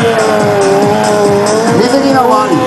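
A stunt motorcycle spins a circle burnout at an air base friendship festival, its engine revving in repeated swells while the tires squeal continuously, loud and close.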